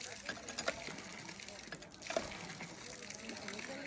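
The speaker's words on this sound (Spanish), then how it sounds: "Ahí te va agua." Water poured into a small pool, a soft intermittent splashing and trickling heard close by under people talking.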